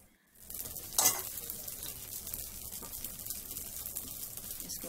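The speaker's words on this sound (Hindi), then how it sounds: "इसके ऊपर देसी घी लगा दिया है और ये अपना सिक रहा है आराम से।" Paper dosa cooking on a hot pan with desi ghee, a close, steady sizzle after a brief quiet start, with one sharper utensil tick near the first second and no talking.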